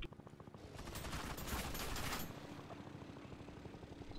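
Rapid automatic bursts from a double gun in Beach Head 2020, a dense rattling fusillade that swells loudest midway, then thins into quicker, softer repeated shots, with no voices.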